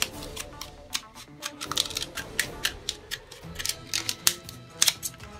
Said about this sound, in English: what you want to do is get another clear tube